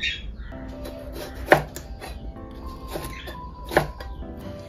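A knife cuts peeled boiled eggs on a board, with two crisp, prominent chops among a few lighter taps, sparse and close in an otherwise quiet kitchen.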